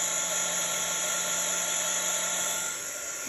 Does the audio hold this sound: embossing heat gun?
yes